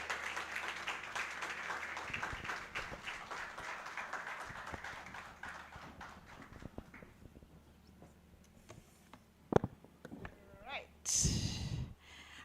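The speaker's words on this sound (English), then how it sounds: "Please keep clapping for her as she walks up." Applause at a live charity gathering for a guest walking to the stage. Moderate clapping fades out over several seconds, leaving scattered claps and room noise, with voices and handling noises near the end.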